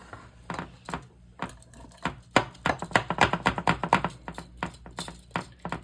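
A knife cuts through a baked vegan enchilada casserole with crispy edges, giving a run of quick, irregular tapping and crunching strikes on a board that grow denser toward the end, close and fairly faint, with no talking.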